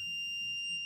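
Continuity tester beeping while the common and L1 terminals of a light switch are checked during an outdoor PIR light installation: one steady high-pitched electronic tone running unbroken for the whole second, close and clear.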